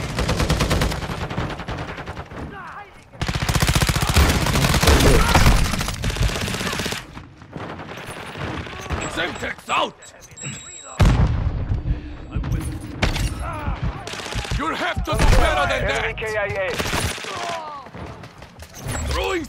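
Semtex grenade explosions and rapid gunfire in Call of Duty: Modern Warfare II, with loud bursts of automatic fire, heavy booms and shattering hits, interspersed with shouted callouts from in-game voices.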